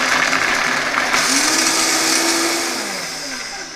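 A blender purees almond cream sauce with a loud, steady whirring roar that shifts pitch slightly as the mixture smooths out, then eases a little toward the end.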